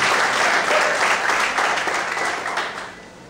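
Worshippers in a church clap their hands in sustained, dense applause that stays strong before gradually fading toward the end.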